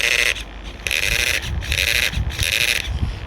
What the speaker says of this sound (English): It does sound like some of the gears are stripped in there.